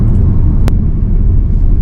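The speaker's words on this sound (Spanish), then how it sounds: "tenemos que pisar a fondo para que percibamos dentro del habitáculo el motor de combustión" Peugeot 408 GT plug-in hybrid's combustion engine at full throttle, heard from inside the cabin: a loud, steady low rumble with one brief sharp click partway through.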